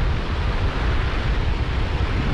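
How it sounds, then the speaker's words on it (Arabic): Strong wind blows at the seaside during a fishing trip, a steady broadband roar buffeting the microphone with surf underneath and no voices. "الريح تزاد شوية في السرعة ديالو"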